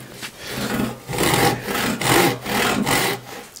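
Hand saw cutting a pine board, several steady rasping back-and-forth strokes with brief pauses between them, close and fairly loud.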